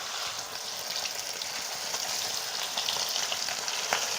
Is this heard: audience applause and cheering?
no